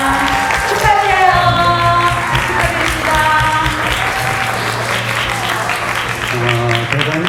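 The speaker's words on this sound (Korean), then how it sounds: "축복과 격려의 박수 부탁드리겠습니다" Wedding guests at a ceremony at a convention hall in Yongin applaud in a steady wash of clapping. Music plays over the clapping throughout.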